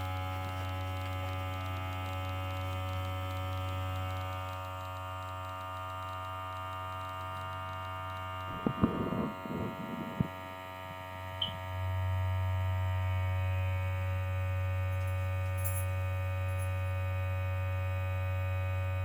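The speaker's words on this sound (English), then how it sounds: "So I'm going to hit the vacuum button and hold it down." A vacuum machine runs with its button held down, giving a steady, close low hum throughout, broken around the middle by a brief clatter of handling before the drone resumes.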